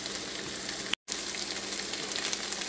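Southern-style creamed corn with bacon frying in a pan, a steady dense sizzle with one brief dropout, faint and without talk.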